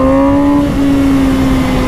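Loud, close engine of a 2020 MV Agusta Brutale 1000 RR heard while riding, a steady high-pitched whine holding nearly constant revs for two seconds over heavy wind rush.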